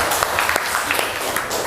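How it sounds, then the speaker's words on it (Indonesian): Classroom applause from students, a steady wash of clapping close by that fills the whole short moment with no talk over it. "Tepuk tangan."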